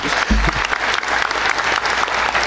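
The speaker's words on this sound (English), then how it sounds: "we couldn't clap our hands enough for them" Audience applause at a military cadet commencement ceremony: brisk, dense clapping from a seated crowd throughout, with a brief low thump near the start.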